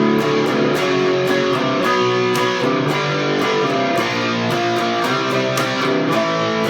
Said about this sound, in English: that's where the distortion comes on for the B5 to D5.